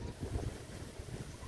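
Strong wind of around 80 km/h buffeting the microphone at a beach in Lemery, Philippines, a loud continuous rumbling roar with gusty low thumps and no clear pauses.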